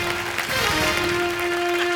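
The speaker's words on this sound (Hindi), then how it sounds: "जोरदार तालियां" Studio audience at a Hindi TV comedy show, Comedy Circus 2018, claps steadily for two seconds under a sustained musical tone, a dense and even wash of applause without a clear start or stop.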